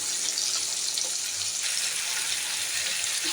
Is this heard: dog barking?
no